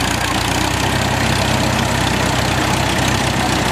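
A 1937 T20 crawler tractor engine idles loudly and steadily up close, a low rhythmic chugging with constant vibration and no pauses.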